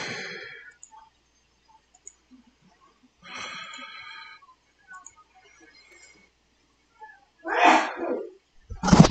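A single sharp sneeze in a quiet room, preceded by some faint scattered noises and a short burst of sound, ending in a brief loud snort-like burst.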